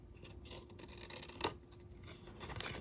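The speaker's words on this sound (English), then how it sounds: "I'm putting my scissors against the center piece and then cutting straight up." Faint snipping and scraping of scissors cutting through stiff cardstock, quiet and close, with one slightly louder cut midway.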